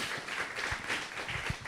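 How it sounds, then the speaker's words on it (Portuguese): A church congregation claps together in a short, soft burst, the hand claps loose and slightly uneven. "Vamos aplaudir o Senhor bem forte."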